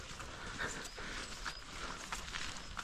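A dog panting and moving about outdoors on a sunny day in a field with sheep, with a steady breathy rasp and faint footfalls throughout, fairly close, with no talking.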